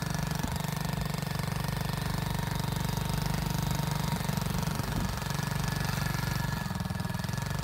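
A 2020 110cc DF AVA Chinese ATV engine runs hard during a burnout, a steady buzzing, throbbing drone close by with slight rises in pitch, no talking over it.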